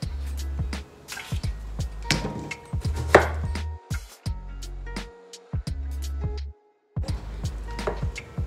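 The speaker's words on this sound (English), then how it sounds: "so I cut them in four" A knife chops a half-peeled cucumber on a cutting board for a salad: a quick series of crisp, close knocks in uneven bursts, broken by short pauses.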